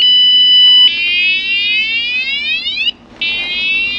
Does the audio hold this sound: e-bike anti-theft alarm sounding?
yes